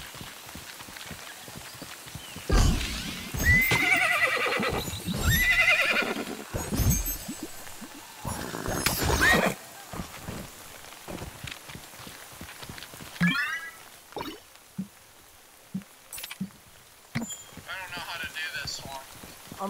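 A horse in the video game Minecraft Legends neighs in loud bursts over a background of rhythmic hoofbeats, with a few fainter whinnies and clopping later on and a player talking at times.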